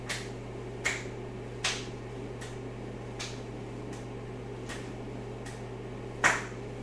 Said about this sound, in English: now we're going to clap in front,